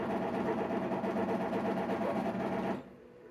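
An embroidery machine steps back a couple of stitches after a thread break, whirring with a steady, rapid mechanical rattle before stopping abruptly near the end.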